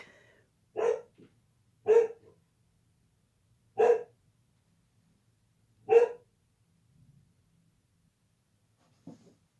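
A female dog barks four times in a slow, evenly spaced series, loud and close in a quiet room, followed later by one fainter short bark.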